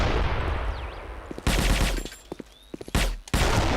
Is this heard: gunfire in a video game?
yes